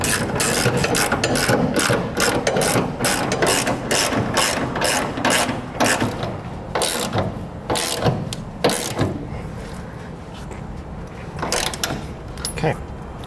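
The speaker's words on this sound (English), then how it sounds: "we can now tighten down our side plate bolts here with a 24mm socket." A ratchet with a 24mm socket tightens the side plate bolts of a B and W Companion underbed hitch kit on a 2016 GMC Sierra 3500. Rapid clicking bursts repeat steadily throughout, close and loud, with some talk under them.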